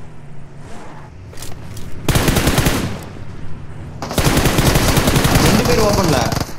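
Rapid bursts of automatic gunfire from a mobile shooter game played on an iPad Mini 6, two loud sustained volleys separated by a quieter pause, with faint voices between them.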